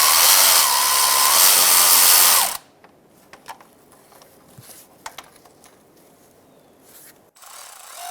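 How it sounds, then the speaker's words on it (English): A loud power ratchet whirs for about two and a half seconds as it backs out a thermostat housing bolt on a 2007–2012 Nissan Altima, followed by faint scattered clicks and handling noises. "taking out the bolt"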